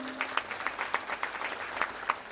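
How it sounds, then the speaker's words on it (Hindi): Audience applause at a religious discourse in Prayagraj, steady dense clapping from a large gathering throughout, with a few sharper claps standing out, no talk over it. "उनका भी जोरदार तालियों से अभिनंदन करें"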